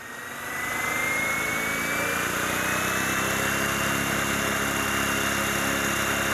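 Flywing MH60T Jayhawk RC helicopter with its rotor spun up, giving a steady loud whir and whine that holds close and constant, a rising tone sliding upward through the first seconds.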